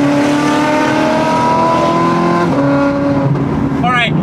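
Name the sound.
Ferrari 430 Scuderia V8 engine revving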